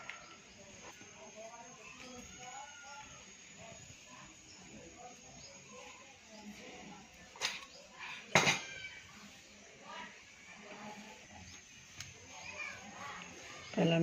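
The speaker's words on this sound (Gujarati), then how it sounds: "પહેલાં મિક્સ કરી દઉં બધું." Spoon scraping and clinking against a pot while stirring potato and pea curry, soft intermittent metallic knocks with a few sharper clanks, under quiet background voices in a home kitchen.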